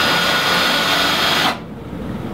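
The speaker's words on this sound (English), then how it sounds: "I can lift the gyroscope during its precession using this cordless drill." A cordless drill runs loud and close with a steady high whine, lifting a precessing gyroscope, then cuts off abruptly after about a second and a half, leaving a quieter hum.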